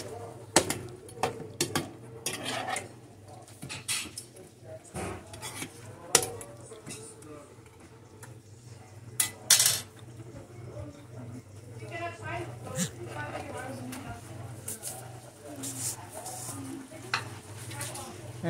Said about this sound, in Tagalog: Tapos haluin lang natin ng ganyan.